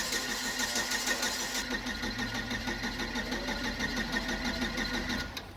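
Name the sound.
car engine cranking while trying to start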